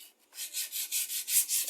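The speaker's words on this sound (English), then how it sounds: "use the sandpaper first." Sandpaper rubs back and forth over the wood of a rocking chair being repaired, a soft, close, rhythmic scratching in about eight even strokes with no talk.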